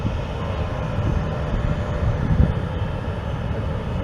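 A Dassault Falcon trijet passes at an airport, giving a steady broad engine roar that swells slightly around the middle and stays moderately loud throughout, with no voices.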